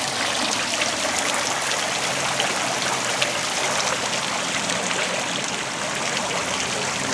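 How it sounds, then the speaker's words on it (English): An outdoor water fountain with red-tinted water runs steadily, a continuous splashing and trickling wash that holds level throughout with no voices over it. "Have you ever seen a water fountain"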